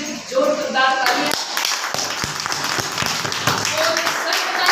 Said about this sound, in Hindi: तो चलिए संजीव गौतम जी के लिए जोरदार तालियां